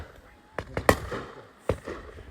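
Shotgun shots at pheasant during a high-bird game shoot, several sharp bangs spread across the moment, one louder near blast among fainter ones, under outdoor ambience with a voice faintly present.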